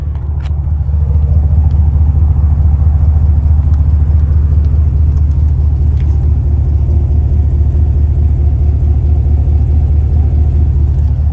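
A 2020 GMC Sierra 1500 Denali pickup with an aftermarket exhaust idles close by, a steady, deep engine rumble with a throaty low exhaust note holding constant throughout and no talking.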